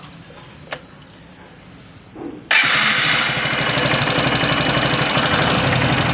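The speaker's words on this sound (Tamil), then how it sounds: "இதில் பார்த்தீங்கன்னா ஒரு டிஃப்ரெண்ட் இன்ஜின் நாய்ஸ் ஒன்று வருது." A Honda Unicorn 160 motorcycle engine starts abruptly after a quiet stretch and then idles steadily and loudly, a rapid, even ticking knock running through the idle close up.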